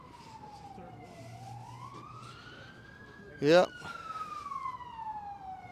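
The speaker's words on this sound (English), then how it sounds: "Oh, another ambulance probably to the Civic Center." An ambulance siren wails on a street in El Paso, Texas, rising and falling in a long sweeping tone at moderate distance under traffic noise, while someone speaks briefly.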